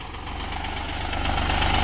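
A tractor engine runs while the tractor is being driven, giving a steady, close, low mechanical drone with a rhythmic knock and vibration that swells slightly in loudness.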